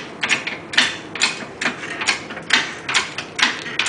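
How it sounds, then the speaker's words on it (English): Impact gun loosening the lug bolts on a 1999 VW Cabrio wheel: a run of rapid, rhythmic mechanical hammering clicks, about two to three bursts each second, close and clear with no talking. "But I have an impact gun, so I don't have to do that."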